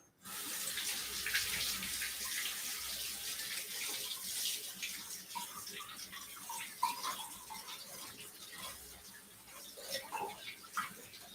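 A part of an Omega 800 juicer is rinsed under a running kitchen tap, with steady splashing water and small clinks and knocks as it is handled, close up and with no talking.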